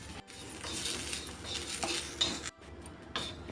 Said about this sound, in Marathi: पहिला आपण सुकं खोबरं भाजून घेऊया